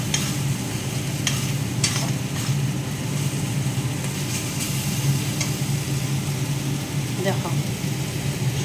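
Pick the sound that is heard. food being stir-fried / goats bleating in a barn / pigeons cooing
food being stir-fried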